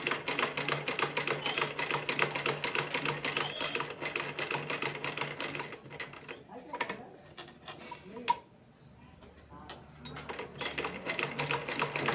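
A sewing machine stitching cord piping, rapid even clatter of the needle running in steady bursts, briefly pausing partway through before starting up again close by.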